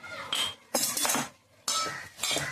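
Metal spoon scraping and clinking in a dish while chopped chilli, onion and salt are mixed together, four short close bursts of clatter with brief pauses between.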